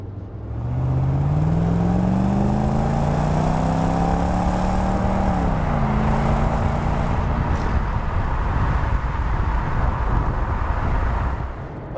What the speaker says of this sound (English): For a 23-year-old car to kick down like that and throw the power